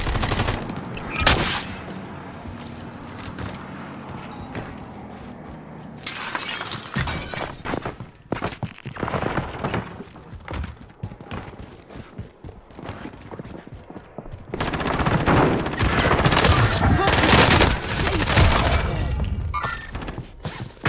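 Rapid automatic gunfire from Call of Duty Warzone close-quarters combat with XM4 and MP5 weapons: loud, dense bursts and volleys with sharp cracks and clattering impacts, firing in clusters across the stretch with brief quieter gaps.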